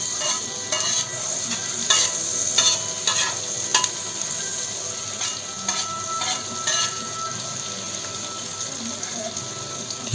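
Sliced onions sauté on a low flame in a pan for tawa pulao, a steady close sizzle broken by repeated scraping and stirring clicks from a spoon, with no voices.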